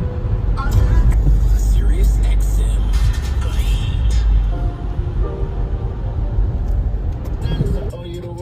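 City bus on a road, with a loud low engine rumble up close, a hiss like an air brake and rattling movement noise from riding along; a voice speaks briefly.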